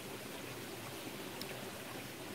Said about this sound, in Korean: 물소리는 들리는데